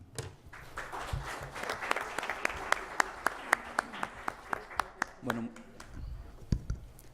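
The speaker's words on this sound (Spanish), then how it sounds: "lo recibimos con un fuerte aplauso." Scattered applause from a lecture audience at a law seminar in Mexico, with sharp individual claps standing out over a murmuring room and trailing off toward the end.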